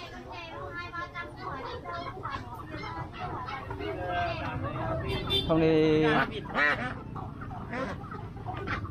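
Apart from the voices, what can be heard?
chickens clucking at a market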